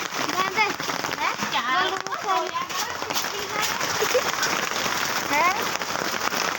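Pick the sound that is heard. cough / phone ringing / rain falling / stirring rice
rain falling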